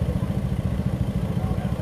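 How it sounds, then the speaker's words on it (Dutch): A delivery scooter engine putters with a steady, pulsing low rumble on a busy city street, close and continuous throughout. "nu gaat een scooter van Uber Eats zich er ook mee bemoeien"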